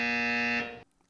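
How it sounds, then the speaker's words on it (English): A harsh, low 120 hertz electronic buzz with a rich, raspy tone drones steadily, then fades and stops abruptly. "they edited in a 120 hertz buzzer sound too."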